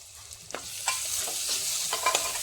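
Chopped tomato sautéed with spices and pepper powder in a pan for a Kerala fish curry: a soft sizzle runs underneath while a spoon scrapes and stirs in several short, irregular strokes, close up and without speech.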